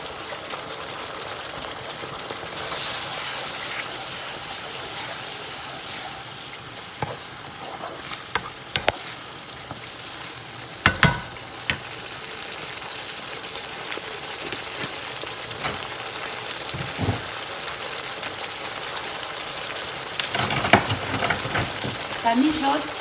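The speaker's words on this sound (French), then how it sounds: "Ça mijote tout doucement." Food simmering gently in oil in a pot over the stove, a steady close sizzle running throughout with scattered sharp clicks and a few louder stirring knocks near the end.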